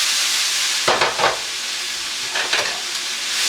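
Onions and mushrooms for chicken Marsala hitting a hot pan, a constant hiss of frying broken by two bursts of louder sizzling as each batch goes in, close and without talk.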